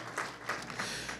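A church congregation claps for the Lord during a worship service: a brief, faint burst of scattered applause swelling in a few waves.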